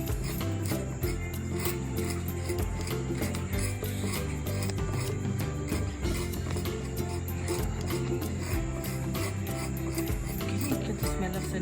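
Cinnamon bark has its outer layer scrubbed off in steady, repetitive rasping strokes, close and continuous, with a rhythmic scraping texture throughout.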